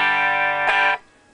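A clean electric guitar tone with the distortion pedal switched off rings as one sustained, fairly loud chord with a slight attack bump partway through, then cuts off abruptly, leaving quiet hiss and no talk.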